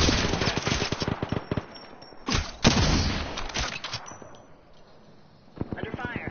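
Rapid automatic gunfire bursts from the Apex Legends battle royale game, dense rattling volleys with brief pauses, loud and close, mixed with a few single heavy shots, while players talk over the action.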